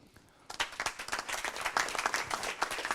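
An audience applauding speakers at a business conference, a burst of dense clapping from a crowd that starts suddenly and continues steadily at moderate volume.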